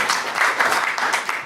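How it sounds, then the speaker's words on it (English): Wedding guests break into applause for the bride's and groom's parents during the speeches, a brief burst of dense, close clapping from a room full of people that holds steady, then eases slightly at the end. "So, a round of applause for Rose and Barry."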